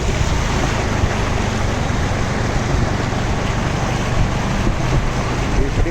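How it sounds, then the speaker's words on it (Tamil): Floodwater overflowing and rushing across a road in Kanniyakumari, heard from a motorbike ride: a dense, steady roar of flowing water, mixed with wind buffeting, continuous and fairly loud throughout. "கொஞ்சம் இழுத்து போயிட்டு இருக்கு தண்ணி."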